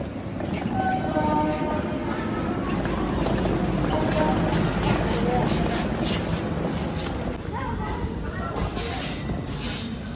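A train pulls into Jalpaiguri Town railway station, its steady rumble of wheels and carriages filling the scene, with a horn-like tone and brief squeals near the end as it slows; people talk over it.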